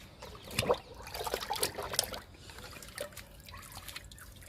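Liquid fertilizer poured onto a pomegranate plant produces soft, uneven splashing and dribbling of liquid onto leaves and soil, fairly faint and close, in a few short bursts.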